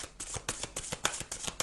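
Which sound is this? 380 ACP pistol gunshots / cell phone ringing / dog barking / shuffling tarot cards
shuffling tarot cards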